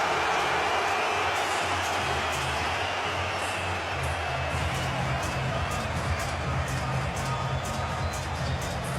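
Boxing arena crowd roaring steadily during the Golovkin vs Brook fight, a dense continuous wash of cheering and murmur with commentary voices faintly underneath.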